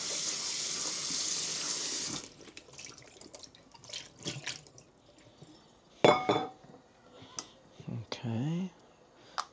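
Running tap water pours steadily into a kitchen sink for washing food, then stops, followed by scattered clinks, splashes and handling noises close by.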